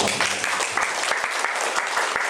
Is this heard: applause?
yes